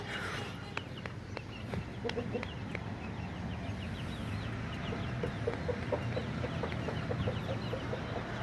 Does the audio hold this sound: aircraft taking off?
no